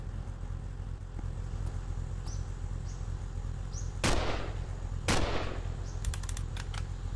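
Gunfire aimed at gas pumps in the game The Long Drive: two loud, sharp gunshot cracks a second apart over a steady low background hum, followed by a quick burst of faint clicking.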